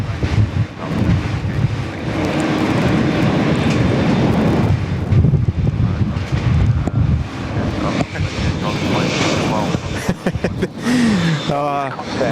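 Sustained roar of a jet taking off from Sydney Airport runway 16 right, heard from a rooftop amid heavy wind buffeting on the microphone, with people talking over it and radio chatter.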